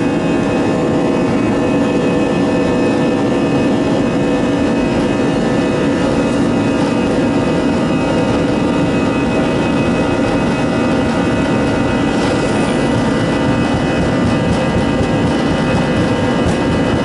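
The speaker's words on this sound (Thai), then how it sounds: "เสียงนี่เป็นเสียงเครื่องยนต์นะครับ" Loud, steady roar of AirAsia airliner jet engines at full takeoff thrust, a broad continuous rumble with whining tones, unbroken by speech for the whole stretch.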